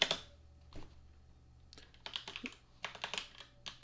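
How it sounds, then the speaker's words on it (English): Keys clattering on a sensitive gaming keyboard in irregular bursts of quick, close clicks separated by short pauses, with no voices. "I have a gamer keyboard, which the keys are so sensitive that it makes you slow to typing"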